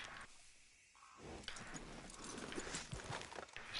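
Horse hooves in Red Dead Redemption 2 clop along at a walking pace, getting busier and louder over the clip, with a soft outdoor ambience behind them.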